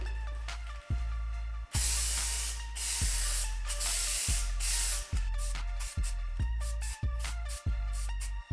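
Spray gun laying another coat of paint on a Jeep Wrangler JK rear steel bumper: a row of steady loud hissing bursts, each about a second long with brief gaps between, heard near and alone.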